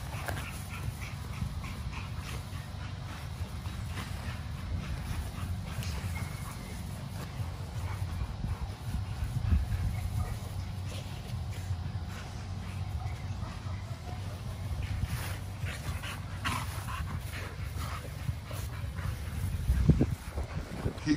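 Two XL pitbulls play and play-bite nearby, with repeated whimpers, yips and scuffling over a steady background, and occasional faint voices.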